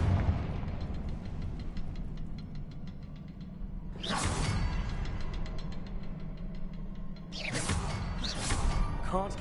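Two loud, whooshing fire blasts from the Confringo spell in the video game Hogwarts Legacy burst out a few seconds apart over a dense, rumbling game soundscape.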